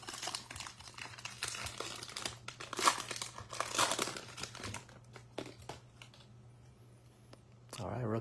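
A pack of 2021 football trading cards is torn open, giving close, busy crinkling and tearing of the foil wrapper for several seconds before it quiets, with faint background hum.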